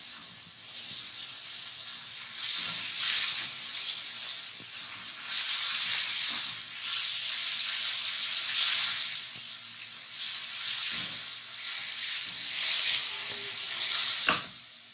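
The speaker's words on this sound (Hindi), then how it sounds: "ऑनियन को हमें बस सौते फ्राई करना है" Chopped onion sautés in a pan for homemade pizza sauce, giving a steady, close hiss and sizzle that swells and eases throughout, with a few soft knocks and no talking.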